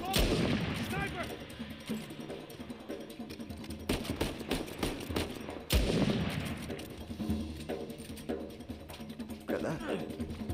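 Rapid gunfire from the video game Uncharted 4 crackles in repeated bursts and single shots over a busy mix of game sound, with characters talking throughout.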